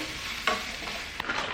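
Dry red chilies sizzling in a hot pan for a buff pickle, a soft steady fry with a couple of brief stirring scrapes.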